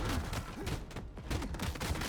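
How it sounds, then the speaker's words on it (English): Rapid, dense shotgun fire in a roguelite action game, a continuous loud barrage of overlapping blasts with no pauses. "Shotgun, a little bit of shotgun."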